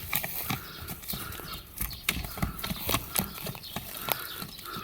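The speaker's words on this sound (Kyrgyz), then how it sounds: "Ушул ат экен туугандар." A horse walks with a steady clip-clop of hooves, fairly faint and at an even pace throughout.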